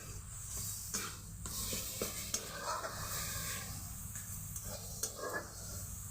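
Mashed banana stem (thor) is stirred in a dry pan, giving soft scraping and rustling strokes with a few sharper clicks over a quiet background hiss, close by and fairly faint.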